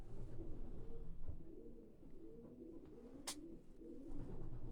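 A purebred Van Loon breeding cock pigeon cooing in a loft, soft low repeated coos in a steady rhythmic pattern, close and faint, with one brief sharp noise partway through.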